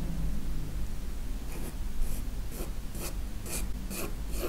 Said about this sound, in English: I'm just using usual graphite pencil at this stage.